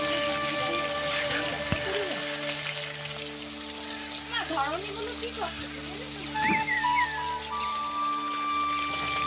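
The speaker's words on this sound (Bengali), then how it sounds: "এখন আমি তেলের ভিতরে আস্তে আস্তে করে মাছগুলো ছেড়ে দেব।" Bata fish fry in hot oil in a wok, producing a steady, rain-like crackling sizzle, with a voice-like tonal sound running over it.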